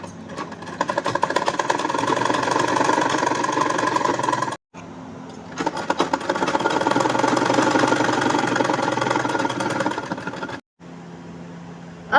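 A sewing machine stitches the seams of a blouse with a loud, fast, continuous mechanical whirr and rattle, running in two long bursts separated by a short pause, with no talk over it.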